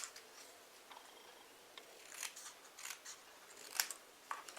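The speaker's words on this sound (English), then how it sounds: "we can then trim it up" Scissors snip through a stamped paper greeting card while trimming, a series of quiet, close crisp cuts spaced irregularly, the sharpest near the end, over a soft background hush.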